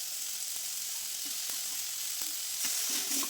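Ginger garlic paste sizzles steadily in a pan for an egg curry, a constant hiss with a few soft clicks of stirring and no talk.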